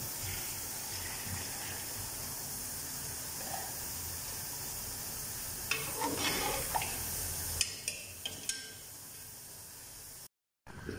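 Water comes to a boil in a pot for beef pulao, with a soft steady hiss and bubbling under quiet kitchen ambience, then a few brief clinks and stirring knocks near the end.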